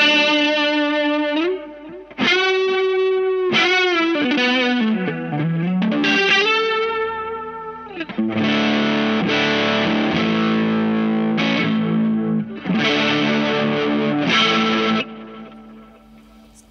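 Electric guitar through a PastFX Elastic Mattress flanger pedal into the amp's distorted dirty channel, with sustained chords and notes swept by a metallic, whooshing flange, loud and continuous with brief gaps between phrases.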